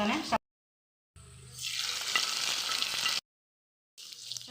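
Hot tempering of chana dal, mustard seeds, onion, cumin, chillies and curry leaves sizzles loudly as it is poured and stirred into white sesame-flour curry, a bright crackling hiss between stretches of silence.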